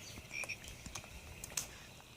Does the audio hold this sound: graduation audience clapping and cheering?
no